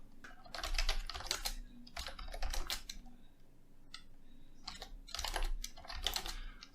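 Steady bursts of typing on a computer keyboard, close and clear, with rapid clattering keystrokes in several runs separated by short pauses, no talking.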